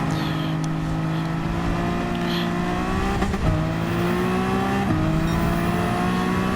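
Race car engines in a Gran Turismo video game race with a Toyota and an older NSX, a loud sustained engine whine rising through gears with two downshift drops, other cars faintly under it.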